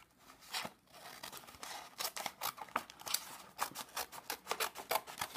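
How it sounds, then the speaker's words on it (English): Scissors snip through a greeting card in a run of crisp, closely repeated cuts, quiet and close with no talking. "Okay, I'm going to cut the card."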